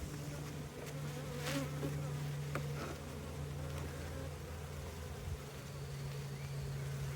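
Honey bees from an opened hive during a spring inspection, buzzing in a steady close drone, with a few brief scraping knocks.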